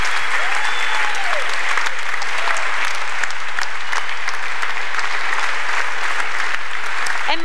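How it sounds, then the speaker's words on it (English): Loud, sustained applause from a large audience at the WordCamp Europe 2016 conference closing, steady clapping throughout with a voice faintly over it. "Please give them a big round of applause."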